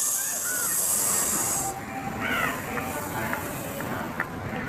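Chocolate dosa batter poured into a hot oiled pan, a strong sizzling hiss that fades after a couple of seconds into softer crackles with faint clinks.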